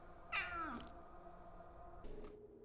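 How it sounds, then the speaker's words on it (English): Ghostly cat meows from the video game Pathologic 2 sound close by, a short plaintive meow followed by a high chiming tone and a second faint mew, all quiet and eerie. "There are many disembodied sound effects like trash cans falling over and ghostly cats meowing next to you."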